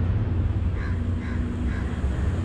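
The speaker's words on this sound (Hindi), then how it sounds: "इसमें कौवे की भी आवाज़ है" Crows cawing in the dark early morning, three distinct caws spaced about half a second apart over a low outdoor rumble, moderately distant and faint.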